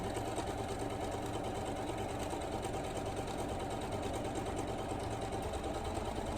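A sewing machine stitches fabric in a steady, continuous mechanical whir with a fine rapid rhythm, running evenly and moderately close throughout with no talking over it.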